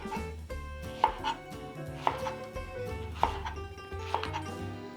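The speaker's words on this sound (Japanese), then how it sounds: "それを切るんですが、ごく普通に斜めに切っていきます。" A kitchen knife cuts Japanese leek diagonally into roughly 1 cm slices on a cutting board, giving a steady series of crisp chops about once a second, close and clear with no talking.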